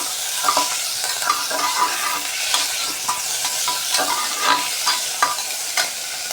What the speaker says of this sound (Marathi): टोमॅटोला पण छान असा मऊ होईपर्यंत असं परतवून द्यायचा तेलामध्ये